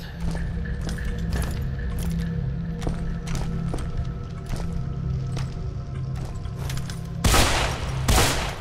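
Gunfire in the video game Deadfall Adventures inside a Maya tomb, a rapid series of sharp metallic shots at a steady rhythm under a low hum, ending with two louder bursts.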